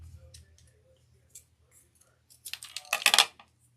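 A plastic straw is cut down with scissors during a sand pail craft, a quick cluster of crisp snips and clicks following quieter handling noises, close and fairly loud.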